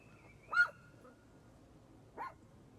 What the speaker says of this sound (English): You're barking at people and there's a deer out here?